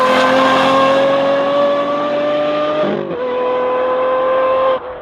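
A 2015 Aston Martin V12 Vantage S fitted with a loud aftermarket exhaust revs hard and close, holding a steady high drone before the pitch dips briefly and climbs again, then cuts off near the end.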